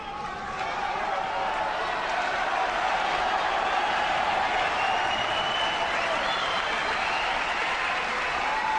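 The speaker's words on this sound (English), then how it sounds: "The Wembley crowd are going crazy" Wembley snooker crowd roaring with sustained applause and cheering, a dense, loud wash of clapping and voices filling the hall without a break.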